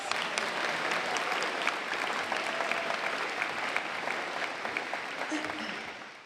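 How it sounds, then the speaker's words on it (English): A large audience applauds steadily for a performer named Victoria at the San Jose mayor's State of the City event, dense sustained clapping close and loud that fades slightly near the end. "Let's give her one more round of applause, folks."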